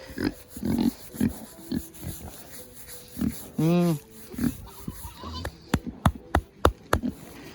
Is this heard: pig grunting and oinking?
yes